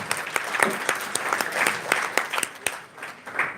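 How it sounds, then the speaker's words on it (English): An audience at a smart-cities business forum held by the Swedish embassy breaks into applause, a dense spread of many hands clapping at moderate loudness throughout. "Let's give a rousing round of applause."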